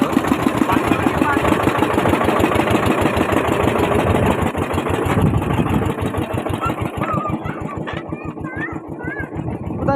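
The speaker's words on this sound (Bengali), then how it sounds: "ছোট বোটে করে জঙ্গল সাফারি স্টার্টিং করেছি আমরা।" A small boat's engine chugs steadily on a morning jungle safari through the Sundarbans, a loud close rhythmic putter that runs throughout with a slight change in pace, and faint voices under it near the end.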